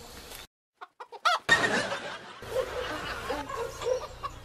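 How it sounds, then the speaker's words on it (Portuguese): Chicken clucking from an animated cartoon comes in a few quick staccato bursts, followed by louder, rougher squawking and laughter-like cackles, fairly close and clear. "Uma galinha, né?"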